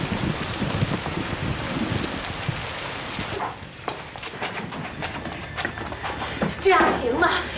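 Heavy rain pours down in a dramatic scene as a steady, dense hiss that fills the first half, then thins out while other noises and movement come through.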